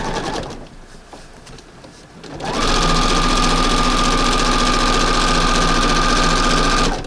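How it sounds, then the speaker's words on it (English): A sewing machine top stitches along fabric for a front porch redecorating project, running steadily and loudly for about four and a half seconds after a quieter start. "finish top stitching all the way down here."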